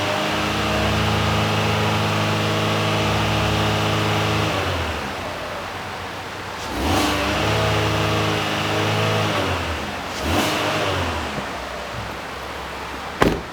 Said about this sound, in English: Let me rev up the engine